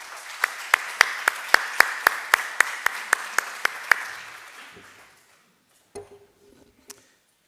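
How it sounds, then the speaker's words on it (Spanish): Evenly spaced, crisp claps ring out in a steady rhythm for about four seconds, welcoming a speaker at an international notarial and registry law conference, then stop, leaving near silence broken by a couple of faint knocks. "para quien pido un caluroso aplauso"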